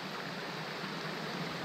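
A southwest brook in Newfoundland flows steadily in a continuous, even broadband wash of moving water, close and constant throughout, with no voices over it.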